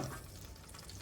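Meatballs cooking down in sauce in a pan, a steady soft sizzle and bubbling hiss, brief and close.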